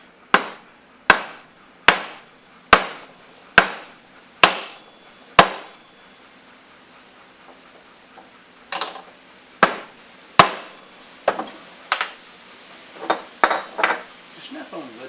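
A Snap-on lead-filled soft hammer taps an aluminum Blue Point seal driver handle in about seven evenly spaced, sharp, close strikes, then a pause and a quicker, irregular run of knocks of varying strength.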